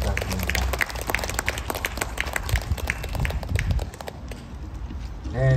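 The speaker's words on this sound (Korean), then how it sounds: "다시 한번 더 소프라노 이지스 씨께 따뜻한 박수 부탁드립니다" An audience at an outdoor pavilion concert applauds soprano Lee Ji-su, warm clapping that rolls on steadily and then thins toward the end.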